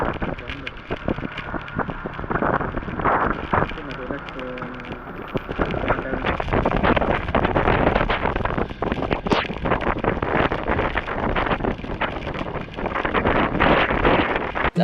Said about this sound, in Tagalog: Lakas ng hangin, grabe.